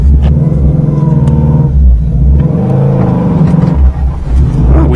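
A Subaru engine runs steadily just after a cold start on a long-parked car, a loud close rumbling idle with a slight rise in revs midway and no talking.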